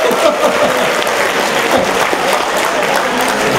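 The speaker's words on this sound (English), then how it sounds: "Now you have to clap" Lecture-hall audience at a mechanical engineering talk claps steadily for the Tata Nano, a dense, sustained wash of many hands close and loud throughout, with no pauses and no voices standing out.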